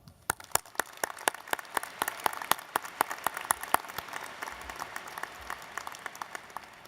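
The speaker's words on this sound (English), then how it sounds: "Please, though, join me in a round of applause for Dr." At a 2017 University of Arkansas College of Education and Health Professions commencement, an audience claps in a round of applause. Scattered sharp claps at a distance thicken into a steady, soft patter.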